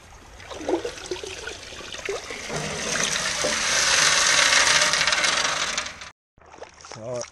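Gold pan being worked in water sends up sloshing, trickling swirls with gritty gravel rattles that build steadily, then stop abruptly, followed by a brief voice and a little more splashing.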